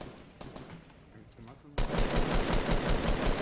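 A minigun in the video game Fortnite opens up in a dense, rapid, continuous burst that starts abruptly halfway through, after scattered shots, while players talk.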